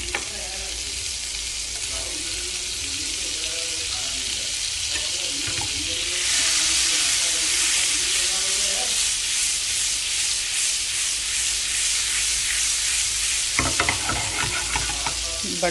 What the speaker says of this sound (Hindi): तो इसमें थोड़ा सा बटर डालूँगी